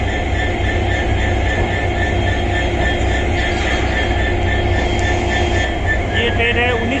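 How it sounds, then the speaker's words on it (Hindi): The 19226 Jammu Tawi–Jodhpur SF Express rumbles out of Bikaner station with a steady loud drone of rolling wheels and engine, dense and continuous throughout, with some talk mixed in. "बीकानेर से अभी अपने यात्रा पे निकल रही है।"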